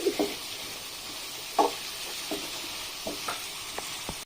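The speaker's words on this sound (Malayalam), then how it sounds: "ഇളക്ക് ഗൈസ് ഇളക്ക് ഇളക്ക്" Mushroom masala sizzles in a pan while a spoon stirs it, several light scraping knocks over a constant close frying hiss.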